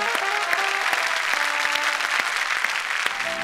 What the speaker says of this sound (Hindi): जब देशभक्ति की बात करूंगा तो तालियां बजेंगी